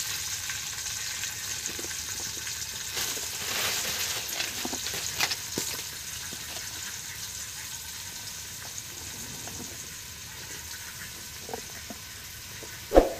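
Chopped onions hit hot oil already seasoned with whole spices for a chicken biryani, giving a steady, dense sizzle that holds throughout, with a few small clinks and stirring touches near the end and no talking.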